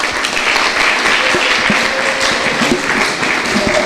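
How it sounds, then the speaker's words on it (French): A civil-society gathering applauds a guest speaker being introduced, loud and close clapping that continues steadily throughout with a murmur of voices beneath. "Est-ce qu'on peut l'applaudir?"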